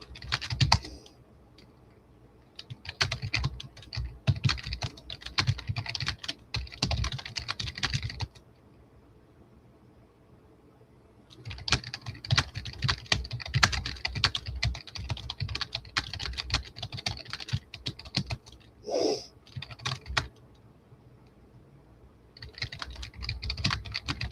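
Typing on a computer keyboard, rapid irregular clacking in several long bursts separated by quiet pauses, close and fairly loud, with no talk over it.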